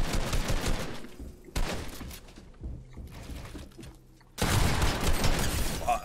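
Pump shotgun blasts in a Fortnite 1v1 build fight, several loud bursts of gunfire with a gap of quieter game sounds between them and a heavy final volley.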